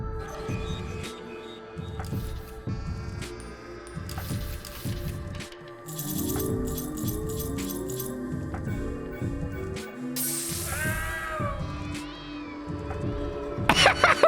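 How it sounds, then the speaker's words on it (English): A cat meows several times in a game soundtrack, short mewing calls set among music and background tones, fairly faint and with no talking over them. "Is that a cat?"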